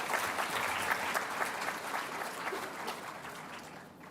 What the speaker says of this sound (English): a good round of applause to all of you